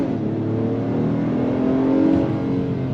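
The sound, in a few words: 2024 Acura MDX A-Spec accelerating in sport shift mode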